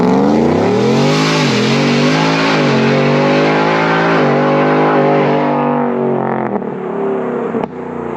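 A 600 rear-wheel-horsepower Ford F150 with a VMP Odin supercharger launches hard, its engine revving up in a loud, rising harmonic snarl with a slight dip mid-pull, then cutting off abruptly near the end.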